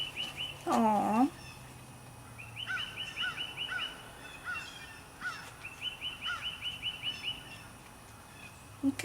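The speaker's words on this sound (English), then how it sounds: "You do hear all the birds." Birds singing outdoors: repeated bright chirps and short trilled calls in bursts, with one louder, rising call near the start and faint voices in the background.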